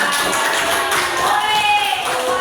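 Children in a classroom clap together in a dense, steady patter of applause that fills the whole moment, with a voice faintly mixed in.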